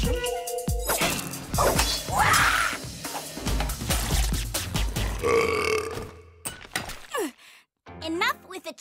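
A cartoon character lets out a long, loud, exaggerated belch. Crashing and whooshing effects surround it, and a brief voice is heard near the end.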